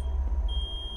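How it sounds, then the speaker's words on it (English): A home microwave oven sounds a steady electronic tone, a continuous high beep held across the moment over a low room hum, with no voices. "The microwave going off."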